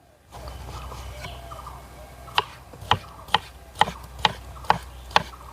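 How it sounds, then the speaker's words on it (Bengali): A knife chops through watermelon in a home kitchen, about seven crisp, evenly spaced cuts on a board, close and clear over a low background hum. "তরমুজটাকে ভালো করে ফালা ফালা করে নেব।"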